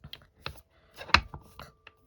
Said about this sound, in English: oh, why did I shuffle that?